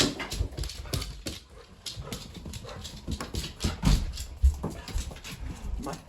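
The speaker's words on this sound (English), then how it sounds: "My doggy." A pet dog moves about close by, with soft whimpers, snuffles and the patter of its movements amid light rustling.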